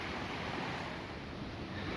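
An underground waterfall inside a cave roars with loud, steady gushing water, a dense unbroken rush that fills the space.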